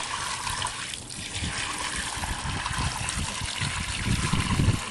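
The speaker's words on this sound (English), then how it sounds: "And then I'm going to slowly dump the water out." Dirty car wash water pours slowly out of a bucket fitted with a grit guard, a continuous close trickle and splash that builds toward the end, with no voices.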